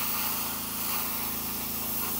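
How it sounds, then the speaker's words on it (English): An airbrush sprays paint onto a 1/48 scale Meng F-35A model kit, giving a steady close hiss with a faint pulsing compressor hum beneath, unbroken and without speech. "I'm just going to come in here and spray a little bit heavier here in the center"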